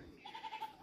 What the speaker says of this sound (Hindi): बकरी को दिखाऊंगी अभी आपको, छोटी सी बकरी हुई है